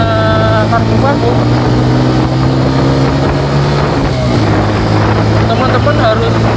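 A Suzuki Thunder 125 motorcycle with a stock carburetor labours uphill. The steady, loud engine drone is heavy with wind buffeting, and the pitch dips slightly partway through.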